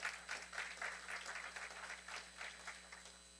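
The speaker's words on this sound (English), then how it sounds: "Round of applause for Dave Weiner, please." An audience at a biotech pitch competition in New Orleans applauds a speaker being introduced, steady scattered clapping from a crowd heard at a distance, fairly faint and continuous.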